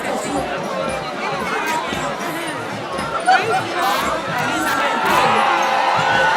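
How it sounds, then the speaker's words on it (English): Loud crowd cheering and shouting at an Independence Day parade as very old, agile veterans in brown uniforms march past, a dense, continuous roar of voices that swells slightly toward the end. "And people are cheering them on."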